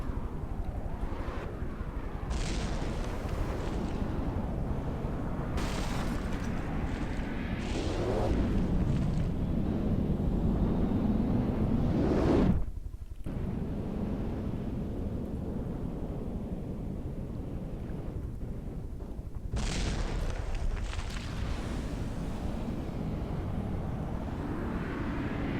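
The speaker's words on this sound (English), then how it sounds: "Oh, huge explosion there. Looks like the ammo stores were pierced." A huge explosion as ammo stores are pierced on a battle robot in a video game, heard as a heavy, roaring low rumble with bursts and crashes that swells and dies away over a long stretch.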